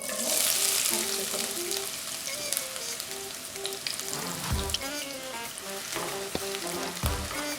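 Onions frying in 2 to 3 tablespoons of oil for a bread chicken lasagne, giving a steady close sizzle and crackle throughout with occasional stirring clatter, alone with no voices.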